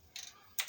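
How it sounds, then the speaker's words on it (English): Computer keyboard keys tapped in two short bursts while a terminal command is typed, close and quiet, with a brief pause between the clusters of keystrokes. "It's such a habit for me to type in LS."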